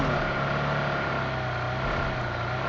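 A car driven by a bot in the PUBG Mobile game produces a steady, loud engine drone with a low rumbling hum and no speech over it.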